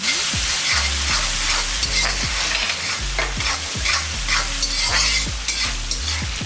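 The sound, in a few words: sautéing tomato and onion in a pan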